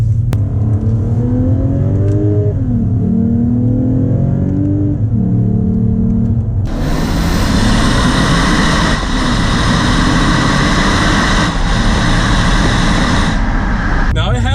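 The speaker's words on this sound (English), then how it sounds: "You hear the whine just come straight into the cabin." Lexus RC 350 engine pulling hard in Sport Plus with manual mode, heard from the cabin: rising, shifting engine tones give way to a loud, sustained whine and roar that dominates the rest.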